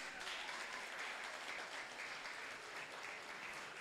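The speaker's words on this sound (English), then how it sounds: "Shall we clap for those students?" Guests at a school graduation ceremony applaud the graduating students, a faint, even wash of clapping heard from a distance with no speech on top.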